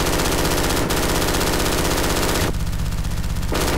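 A mounted machine gun nest in the video game Brink fires loud, continuous rapid bursts with only a brief pause between strings of shots.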